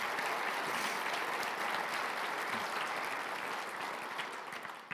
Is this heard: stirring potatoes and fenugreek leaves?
no